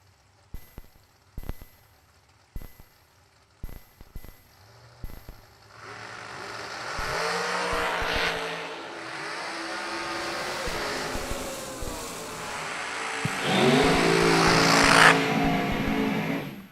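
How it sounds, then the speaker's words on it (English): Drag race cars launch side by side down a racetrack at a big-money drag racing event, engines roaring up and building into a loud sustained howl after a few sharp pops at the start line. "Wright out 447, left side of the racetrack to Tackett's 479."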